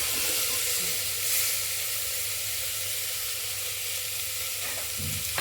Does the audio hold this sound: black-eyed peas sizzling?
yes